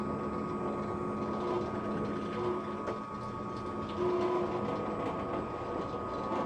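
An old cheap drill press motor spinning freely, a steady, close mechanical hum with faint whining tones and a light rattling texture, running unchanged throughout with no voices.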